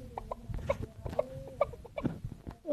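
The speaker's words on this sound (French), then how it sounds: "pourquoi y a-t-il une poule dans ce truc?" Chicken in the Block Craft video game clucks repeatedly in short, moderately loud bursts, a rooster-like fowl call repeating over a low background hum.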